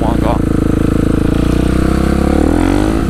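A motorcycle idles slightly high in the rain, its engine giving a steady, loud, close-up rhythmic thrum that holds unchanged from start to finish.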